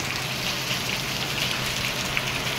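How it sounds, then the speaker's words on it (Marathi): Steady rain falls outside, a continuous even hiss of drops on surfaces, close and uniform throughout with no voices. "जरा बाहेर पाऊस पडतो तर जरा बाहेर जाऊया"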